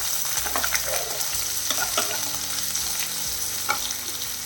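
Four green chillies and a large onion cut into square pieces fry in oil for a sweet potato bhaji, with a steady close sizzle and repeated scraping stirs of a spoon in the pan.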